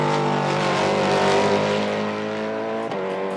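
S5000 race cars on Hoosier tyres scream steadily through a qualifying lap at The Bend Motorsport Park, a loud, sustained, high-revving engine note with a brief dip near the end.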